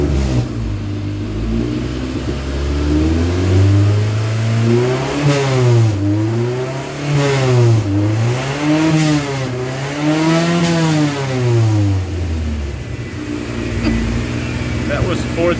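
Honda CRX ('91 HF) engine revving in gear while raised on jack stands, a loud close engine climbing and falling in repeated swells through several rev cycles before settling back to a steady idle-like drone.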